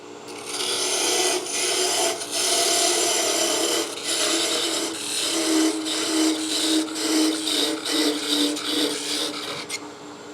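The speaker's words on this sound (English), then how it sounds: "Let's go ahead and finish parting this off" Wood scrapes and rasps steadily against a parting tool on a spinning lathe while a salt and pepper mill is parted off, a loud, close grinding hiss broken by brief pauses.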